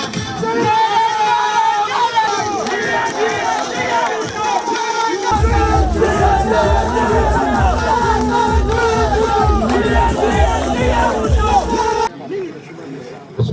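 A large crowd at a Pakistan Peoples Party rally in Dadyal roars and chants slogans in a loud, continuous swell of shouting and cheering that cuts off sharply near the end.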